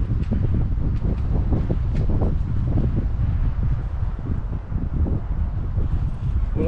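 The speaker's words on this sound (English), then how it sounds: "It's really windy and a bit chilly again." Strong wind blows steadily across an outdoor car park, a continuous loud rushing roar with buffeting gusts hitting the microphone throughout.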